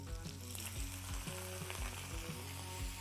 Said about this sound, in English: Since they are very golden, it's time to deglaze with white wine.